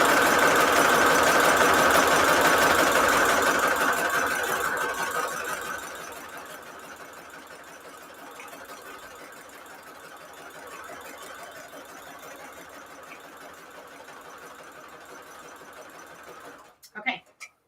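A sewing machine stitches around the edge of a junk journal cover, running loud and close for several seconds before settling into a quieter, steadier hum, with a person talking over it.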